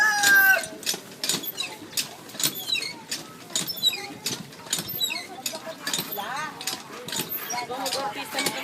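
Agitated chickens being handled squawk and cluck in sharp, irregular bursts, close by, while people talk and react over the commotion.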